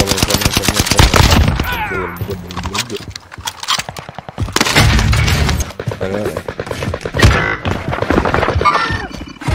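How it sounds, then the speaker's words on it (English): Gunfire in Modern Warfare 2, rapid bursts of automatic shots rattling loudly and close, with short pauses between volleys and occasional impacts. "I'm taking fire!"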